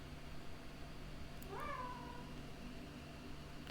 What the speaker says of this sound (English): you never know when the cat will want to get some air